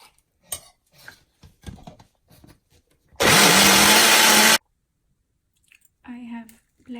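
After light kitchen clatter, a blender roars in one loud, steady burst of over a second, finely grinding coconut chutney with added water, then stops before someone speaks.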